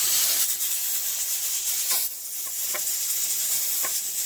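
Steam escaping from a 23-quart aluminum pressure cooker with a regulator weight too light to seal it, a continuous bright hiss with a few faint clicks and rattles.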